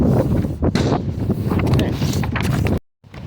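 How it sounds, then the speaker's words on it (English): Loud, buffeting wind rumble on the microphone at a shooting range, steady low roar with gusty bursts, then a brief drop to near silence before resuming. "it's a windy day today."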